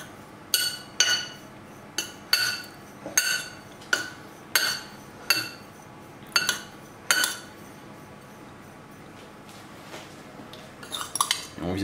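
Metal utensil clinking against a dish while mixing grated parmesan with breadcrumbs for a parsnip and potato gratin, a steady series of sharp taps and scrapes repeating about every second, close and clear with no talking.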